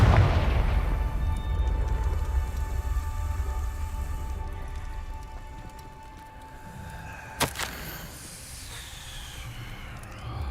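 A Confringo blasting spell in Hogwarts Legacy explodes with a heavy boom that rolls into a long hissing, crackling decay, followed by a sharp click and fainter residual rumble.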